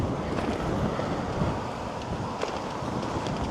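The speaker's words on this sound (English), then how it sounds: "Definitely had wind today." Wind gusting across the microphone during a solar-powered bike tour in Lithuania, a steady rushing buffet with occasional harder gusts, loud and continuous throughout with no voices.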